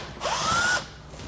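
A power driver backing a T25 Torx screw out of the bumper corner while a trailer hitch goes onto a 2015 Volkswagen Golf: one short, close whirring burst with a rising motor whine.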